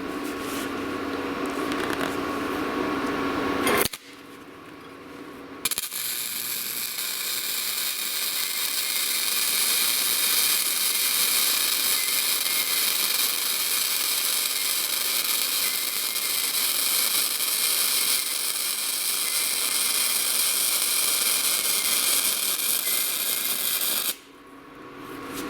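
A cheap flux core welder lays a weld pass on steel, a steady crackling hiss that starts abruptly, runs unbroken for about eighteen seconds and then cuts off, with a short earlier burst before a pause.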